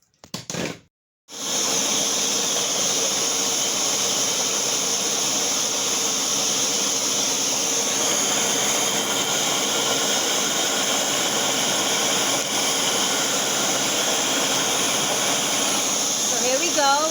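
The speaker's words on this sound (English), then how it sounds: "the paper mache with the corn flour with flowers and water is on that blender. It's blending right now." A Ninja blender roars at high speed, blending paper mache with corn flour and water; after a brief start-up and pause, the loud motor whine holds steady and close for the rest of the clip.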